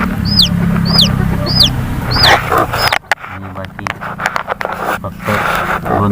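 Chirpy calls of chicks repeat through the first half over a low clucking hen, followed by scratchy rustling and scattered clucks nearby.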